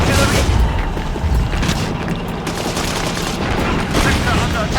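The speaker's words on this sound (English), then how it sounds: "Incoming fire mortars and artillery." Incoming mortar and artillery fire in Battlefield 2: Modern Combat: dense, continuous booms and rattling blasts at full loudness, overlapping with no pause throughout.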